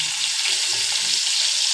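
Potatoes sizzle in hot oil tempered with fenugreek and dried red chilli, making a dense, even, close frying hiss with no voices.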